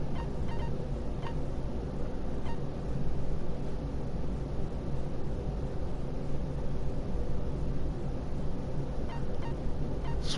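White noise in the Danganronpa 2 class trial: a steady, dense wash of hiss and rumble with faint honking, garbled blips scattered through it, holding at an even level from start to finish.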